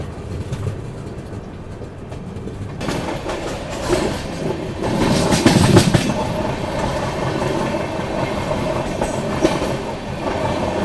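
Gitanjali Superfast Express, Howrah to Mumbai, pulling out of Jalgaon on the main line, with a steady rumble and wheel clatter that swells midway and stays loud and continuous throughout.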